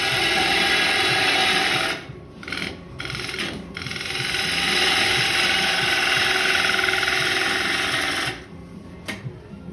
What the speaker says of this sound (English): The lathe is doing all the work. The chisel's really sharp.